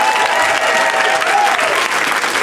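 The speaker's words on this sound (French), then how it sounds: "Je pense qu'on peut leur donner une bonne main d'applaudissement." A live podcast audience bursts into steady, dense applause that fills the room loudly and evenly from start to finish, with no break in the clapping.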